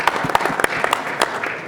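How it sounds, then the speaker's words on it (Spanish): An audience applauds at a public security forum panel in Chile, a dense, steady patter of many hands at moderate loudness with a few sharper claps standing out. "Sí, por favor, un aplauso para Raúl, que nos acompaña hoy día."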